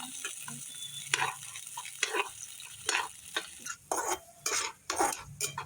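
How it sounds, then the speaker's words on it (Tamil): Onions frying in oil in a pan are stirred with a utensil, producing repeated scraping strokes over a steady close sizzle, with no one talking. "நல்லா அதே மாதிரி கிண்டிக்கணும்"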